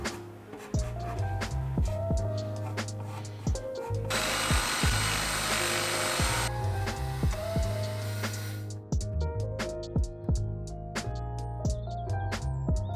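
An electric drill bores into a wall while a boho wall organiser is mounted, one loud burst of whirring lasting a few seconds in the middle, set amid steady background music.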